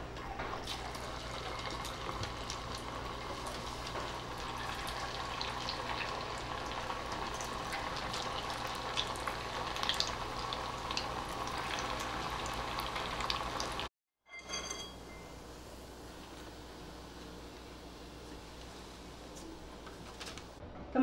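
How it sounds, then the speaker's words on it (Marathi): Sabudana fingers deep fry in hot oil with a dense, steady bubbling crackle, broken by a brief silent gap before the frying resumes slightly quieter. "असे सगळे फिंगर्स आपण तळून घेऊ."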